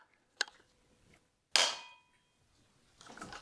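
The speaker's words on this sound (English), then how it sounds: "With the camshafts locked at the back, I can now remove the VANOS bolts" Metal tool clanks while VANOS bolts are removed from a BMW N42/N46 engine on the bench: a faint tap, then a sharp ringing clang that decays, followed by soft rattling.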